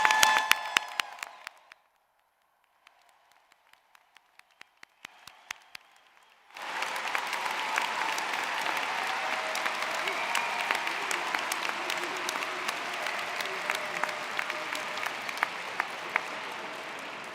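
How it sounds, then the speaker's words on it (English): Applause swells into sustained clapping from a large audience at a university graduate commencement and carries on steadily, preceded by a few scattered claps and a moment of near quiet. "Let's give them one more round of applause."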